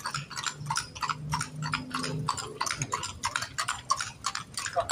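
Rhythmic hoofbeats clip-clop at a steady trot on a hard road in Intramuros, fairly close, with a low engine-like hum beneath.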